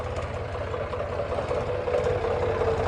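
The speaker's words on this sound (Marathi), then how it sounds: "हर्षदचा ट्रॅक्टर आहे" A tractor engine runs steadily nearby with a continuous mid-low rumble and slight knocking texture, holding fairly even loudness throughout, with no talking.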